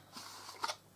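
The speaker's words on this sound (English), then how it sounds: "I'm going to cut this piece off" Scissors snip through a paper gift box flap, a single quiet cut with a short crisp crunch near the end, close and soft in an otherwise quiet room.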